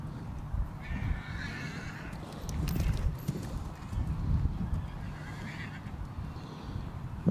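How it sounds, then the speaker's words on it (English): Horses gallop around a show arena, with a soft irregular drumming of hooves on turf swelling and fading, a whinny and distant crowd or announcer noise in the background. "What a great ring to see them full gallop."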